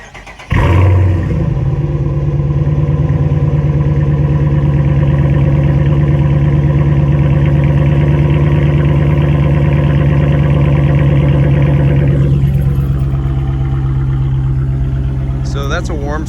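A Dodge Charger with modified exhaust warm-starting with a loud crank and catch, then settling into a steady, deep, rumbling idle close by. Near the end the engine briefly changes pitch.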